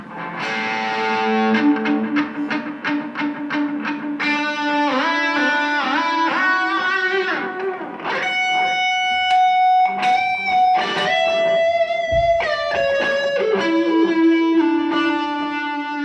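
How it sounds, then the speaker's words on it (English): An electric guitar played through a Blackstar amp with built-in tape echo delay, loud and distorted, with fast repeated picked notes, then bends and sustained lines trailing echoes, alone without talk. "There's also a built-in tape echo delay, so you can kind of manipulate a small room reverb if you like."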